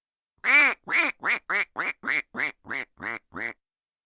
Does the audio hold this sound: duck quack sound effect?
yes